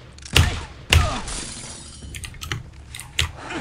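Gunshots tearing through a table and a bunch of wine bottles in Indiana Jones and the Emperor's Tomb: two sharp, loud smashing impacts close together, then a scatter of lighter clinks and knocks as debris settles.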